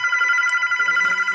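A telephone rings steadily in a continuous electronic trill, loud and close, with no talking over it.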